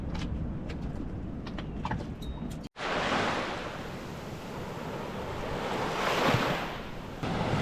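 Ocean surf near high tide breaks on a beach in the Marquesas, a steady rushing wash that swells and recedes, with wind buffeting the microphone and a few faint birdcalls early on.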